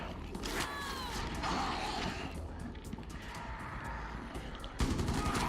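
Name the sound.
magazine swap and reload in Rainbow Six Siege video game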